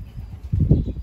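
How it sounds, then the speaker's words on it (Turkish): Pet pigeons burst into flight from a rooftop loft, a short flurry of soft wingbeats building to a louder, close flapping rush over faint background noise. "Şimdi benim kuşları kaldırdım."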